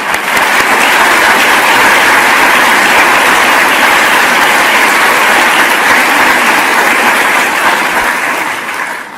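Loud, sustained applause from a conference audience at the 2022 Ukraine Recovery Conference, a dense continuous roar of many hands clapping that holds steady before tapering slightly at the end.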